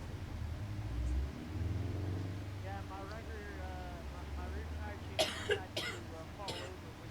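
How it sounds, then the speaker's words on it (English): A woman coughs in the background of a room during an iRacing race at North Wilkesboro, several short sharp coughs near the end, faint beneath a steady simulated race-car engine drone and muffled talk. "There's my girlfriend coughing in the background again."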